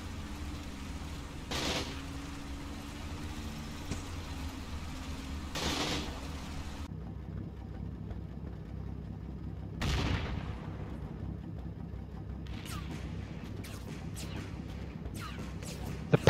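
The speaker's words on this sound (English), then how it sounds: "The Panzer IVs on overwatch come under fire from what looks like a flak gun" Flak gun firing on Panzer IV tanks in the Combat Mission: Kampfgruppe Peiper wargame: a few heavy, booming shots spaced several seconds apart over a low rumbling battle ambience, fairly distant, followed by some sharper cracks near the end.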